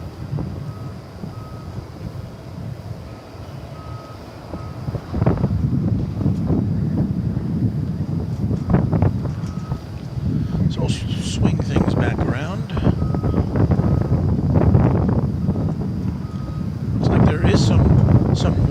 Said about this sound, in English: with a 22 mile per hour wind, and it's pretty steady